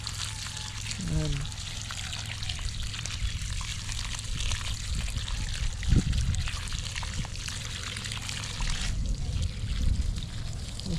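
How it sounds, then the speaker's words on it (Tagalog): Water pours and trickles onto soil while garden plants are watered, a continuous gentle splashing that runs throughout, with someone speaking over it. "Dito tayo magdidilig sa medyo malayo-layo."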